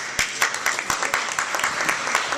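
A ceremony audience gives a round of applause at a Women's History Month honoring event, with loud, uneven claps popping in a continuous patter throughout.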